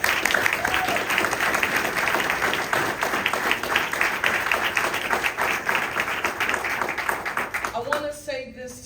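A crowd applauds the building trades at a Philadelphia jobs hub launch, dense sustained clapping that holds steady for several seconds, then thins and fades near the end, with some voices rising over it.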